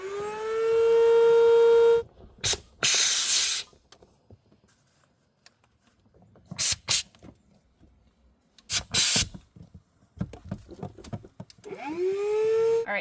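An electric Bravo BTP12 pump inflates the tubes of an inflatable boat, whining with a rising and falling pitch at the start and end, separated by short bursts of air hiss, clicks and handling noises.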